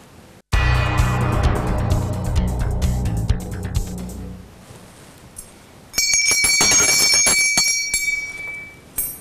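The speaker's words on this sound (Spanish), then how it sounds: "Suena la campana." A bell rings loudly twice, each strike ringing out with a bright metallic tone and decaying, the second strike higher and sharper.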